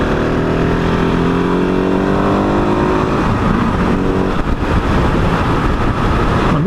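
A 2021 KTM 690 Enduro single-cylinder motorcycle accelerating on a test ride, its engine note climbing steadily in pitch, loud and continuous with wind rush, then briefly dipping and rising again.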